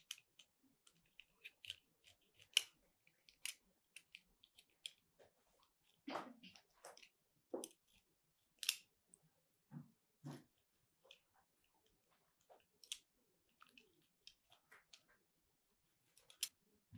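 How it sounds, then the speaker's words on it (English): Scissors snipping fruit peel into assorted shapes for a classroom science demonstration, with many faint, sparse, close snips scattered irregularly through a quiet room and no talk. "we are going to cut the peel into different shapes"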